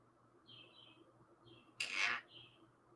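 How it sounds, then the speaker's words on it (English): Loud birds chirp from downstairs in repeated short tweets, with one brief burst of louder, harsher calling near the end. A faint steady hum sits beneath. "Yeah, the downstairs birds are loud today."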